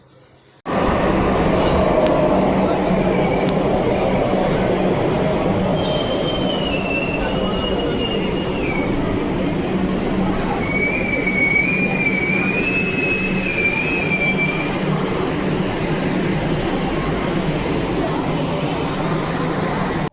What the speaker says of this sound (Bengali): এখান থেকে মেট্রো করে আমরা কালীঘাটে যাব